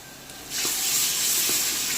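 Ginger garlic paste hits a pan of sautéed onions and starts sizzling, a sudden bright hiss that rises after a brief quiet moment and holds steadily, with faint stirring taps beneath.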